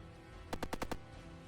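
A minigun fires in a video game about pickles shooting each other, giving one short, rapid burst of about five sharp shots, fairly quiet, with no talk.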